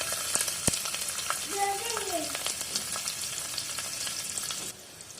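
Chopped onions sizzle in hot oil with whole cumin seeds and a bay leaf, a steady crackling fry with sharp pops. A brief wavering tonal whine rises over it midway, and the sound drops quieter near the end.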